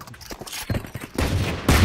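Rapid gunfire from the video game Valorant rattles in several quick bursts that grow denser and louder toward the end, with no talking.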